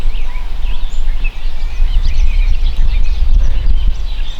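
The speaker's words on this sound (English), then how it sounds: "there's other birds that were gobbling over here that I didn't hear" Wild turkeys gobble in the distance across New York State pasture, faint rattling calls breaking through loud wind buffeting and rumbling on the microphone.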